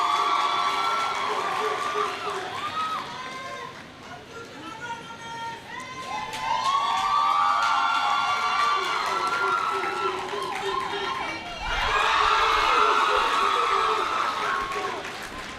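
An audience at a school valedictory service breaks into applause and cheering, with children shouting; the noise swells in loud waves, dips between them, and peaks again near the end.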